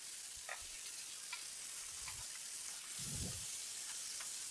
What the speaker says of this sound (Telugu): ఇలా బాగా వేపుకున్న తర్వాత ఉడకబెట్టి ఉంచుకున్న మటన్ను ఈ మిశ్రమంలో వేసుకోవాలి.